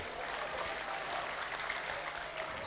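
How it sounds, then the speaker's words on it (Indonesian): An audience at a technical conference talk applauds a presenter with a continuous, even wash of many hands clapping, distant and fairly soft, holding steady throughout with no voices on top. "Beri sambutan dan beri tepuk tangan untuk Bapak Teddy Yusliwar"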